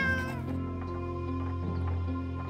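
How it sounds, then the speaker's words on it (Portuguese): A cat meows in the pixel-art video game Drova, a single drawn-out cry heard over steady, continuous game music. "O gato faz um barulho e vira a cabeça pra trás."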